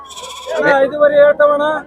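Goat kids bleating at the Chitradurga sheep and goat market, one loud near animal giving a long wavering bleat in two drawn-out pulses, with a fainter bleat just before it.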